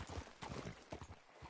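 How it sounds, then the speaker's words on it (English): Horse in the Western video game Red Dead, its hooves clip-clopping in a steady walking rhythm, close and moderately loud, with no talking over it. "You got a problem with that horse?"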